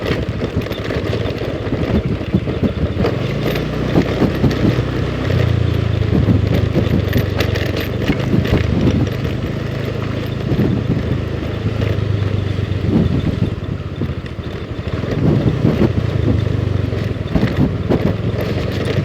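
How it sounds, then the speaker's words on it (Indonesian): Motorcycle engines hum and rumble at close-to-moderate distance, rising and fading as bikes pass through a village at midnight, over a steady background of crickets. "masih ada 1-2 motor lewat guys, karena udah padat penduduk"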